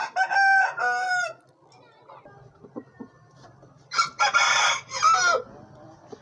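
A rooster crows loudly and close by, goes quiet with a few soft clucks, then crows again in a longer, strained call.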